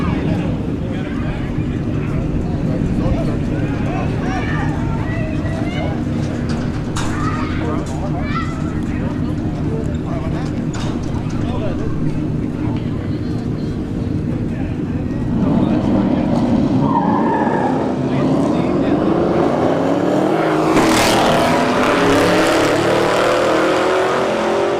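Dodge Scat Pack and EMG GT cars launching side by side at a street heat test-and-tune drag race at Bradenton Motorsports Park, engines roaring loud and steady, then a sharper burst of revving and tire noise midway, with crowd and announcer talk underneath.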